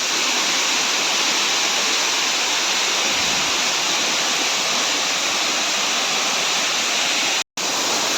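Pradhan Pat waterfall in Deogarh roars in a steady, loud broadband rush of falling water that runs unbroken throughout, apart from a brief dropout near the end.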